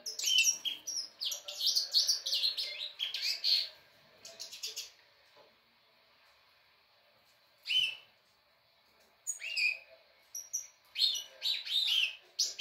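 Several birds chirp and tweet in bright, rapid bursts, with clusters of calls broken by short quiet pauses, fairly close and without any talking.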